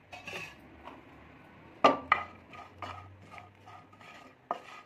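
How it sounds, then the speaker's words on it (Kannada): A spoon of oil with spices frying for a village-style brinjal sambar, heard as scattered metallic clinks and scrapes of a spoon stirring in a pan, close and fairly quiet, with no talk. "ಒಂದು ಸ್ಪೂನ್ ಎಣ್ಣೆ ಸೇರಿಸಿ ಉರಿತಾ ಇದ್ದೀನಿ"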